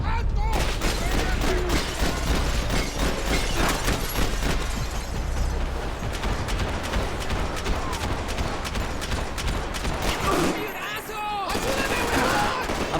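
SMG fire in the video game Max Payne 3 crackles in rapid, sustained automatic bursts with clattering mechanical noise, loud and nearly unbroken, dropping out briefly before resuming.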